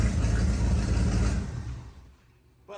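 A 1987 big block plow truck engine idles with a steady low rumble, loud and close, before settling quieter toward the end, followed by a brief mechanical sound.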